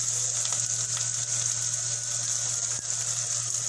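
Sliced onion dropped into hot oil in a pan for a Malvani-style mushroom curry, giving a steady, bright sizzle that holds evenly throughout with no talking.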